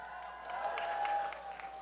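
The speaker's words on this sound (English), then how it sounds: "Let's give them a great big hand." A commencement audience claps for graduates of a high school and Pima Community College, a steady wash of applause from a crowd that holds at an even level and does not fade.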